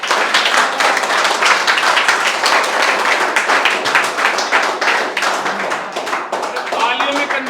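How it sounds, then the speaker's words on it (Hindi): An audience claps together at a gathering in India, a dense, steady patter of many hands that stays loud and close for the whole stretch without letting up. "ताली बजा दो रे दबा के"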